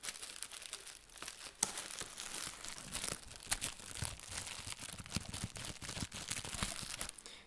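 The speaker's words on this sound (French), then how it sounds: "on va jouer avec le papier bulle. Ça fait du bruit" Close, crackly crinkling and popping of bubble wrap being handled, irregular bursts of snaps over several seconds with no talking.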